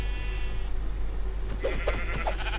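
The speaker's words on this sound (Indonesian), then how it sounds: "Domba." Sheep in the Minecraft video game bleat two or three short times over a steady loud background hum.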